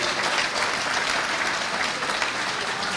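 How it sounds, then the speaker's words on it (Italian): An audience at a live comedy show in Ruvo di Puglia applauds steadily for a few seconds, a close, even wash of clapping hands with no voices over it. "un applauso ce lo dovremmo fare noi, da soli"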